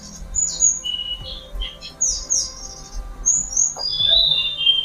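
An oriental magpie-robin (kacer) sings in bright, high chirps and whistled phrases, with bursts coming in quick clusters and short pauses between them, close and clear over a faint low background hum.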